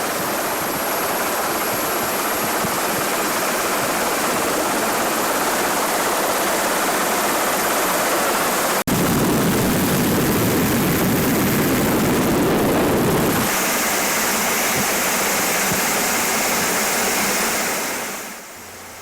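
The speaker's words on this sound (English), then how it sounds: "Captured here on a helicopter ride to remember, filmed from the open door of the aircraft" A helicopter in flight, recorded from its open door, giving a loud, unbroken roar of rotor and rushing wind with buffeting that shifts midway and fades away at the very end.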